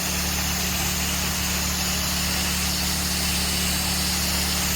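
A pressure washer engine powering a 6.5 gallon per minute machine runs with a steady, loud mid-pitched drone and constant hum, unchanging and close for the whole stretch.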